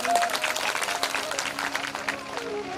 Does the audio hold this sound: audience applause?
yes